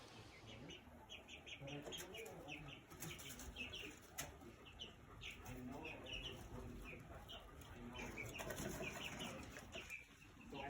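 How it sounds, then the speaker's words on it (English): Chickens cluck and murmur softly nearby amid scattered chirps and light rustling, with a faint voice now and then. "the new chickens are out, and our chickens are like, hey, what's up?"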